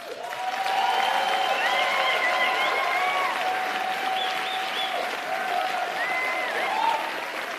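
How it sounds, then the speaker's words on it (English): Sustained, dense applause from a theatre awards ceremony audience, steady and loud throughout with a broad crowd wash, accompanied by faint cheering. "Can we please give the loudest applause possible for Heineken Beverages"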